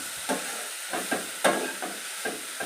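Chicken pieces frying in oil in a pan for hotel-style chicken chops, a steady soft sizzle broken by a few stirring scrapes, close and even in loudness.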